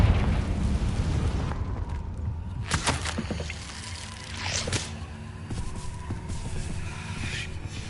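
Confringo spell explosions in the game Hogwarts Legacy, a couple of sharp bursts with rumbling, crackling tails rising out of a low ambient game background.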